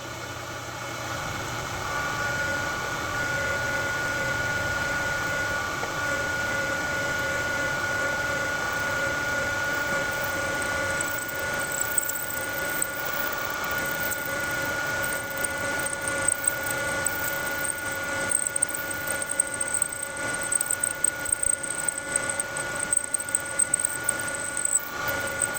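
A machine cutting a taper on a John Deere D reverse idler runs with a steady tonal whine over a low mechanical hum, faint ticking and scraping growing busier toward the end.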